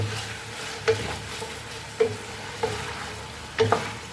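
Vegetables and fish fillet are stirred in a frying pan: a handful of sharp utensil scrapes and knocks against the pan over a faint, steady sizzle.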